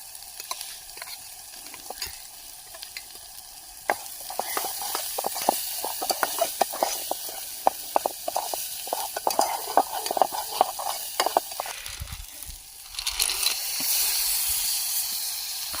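Ground masala paste fries in a pan for a Konkani-style surmai fish curry with clams, cooked outdoors in a forest. A constant sizzle runs under rhythmic scraping stirs, swelling into a louder hiss at the end.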